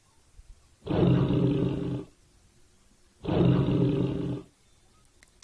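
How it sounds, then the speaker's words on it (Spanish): A tiger lets out two long, deep roars, each about a second long with a pause between, loud and close with no other sound around them. "tigre"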